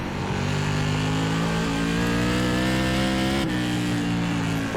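Stock car engines roar steadily in iRacing's Whelen Tour Modified race at Hickory Motor Speedway, a loud, continuous multi-car drone with harmonic tones slowly rising and a brief shift near the end, no voices.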